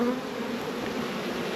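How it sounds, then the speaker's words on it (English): A dense swarm of honey bees hums inside a nuc box, a steady close-up drone with no pauses and no voices. "So a lot more bees in this box."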